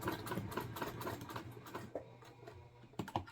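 A sewing machine stitches across a Breeze bag in quick, even rapid-fire clatter that slows and stops near the end. It is faint and close, with no speech.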